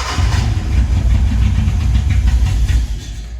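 A Datsun Sunny Truck engine runs loudly up close on a fresh battery, a steady rough idle with a rapid pulsing rumble and slight throttle fluctuations, with no voices over it.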